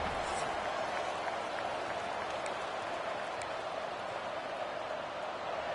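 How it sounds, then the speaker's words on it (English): A packed stadium crowd roars steadily at a college football game featuring the Mountaineers, hyped by a light show before kickoff; the broad, continuous noise fills the whole stretch at an even level. "a cavalcade of dancing lights trying to hype this crowd into a frenzy, and it's working"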